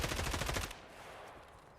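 Automatic gunfire in Escape from Tarkov, a rapid burst of evenly spaced shots at fairly close range for under a second, then stopping abruptly and leaving a low, fading background.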